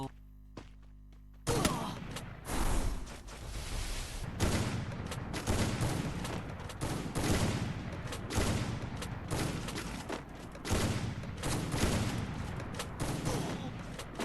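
Rapid bursts of gunfire in the Free Fire battle-royale game during a Dhaka versus Rangpur match, loud and dense with repeated volleys and overlapping shots across the whole stretch after a brief quiet opening.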